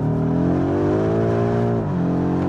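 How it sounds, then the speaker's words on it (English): A 2019 BMW M5 F90 Competition's engine pulls hard in second gear, its loud, smooth roar climbing steadily in pitch for about two seconds before easing off briefly, heard close from inside the car. "You really, really can tell what an incredible beast this is of an engine."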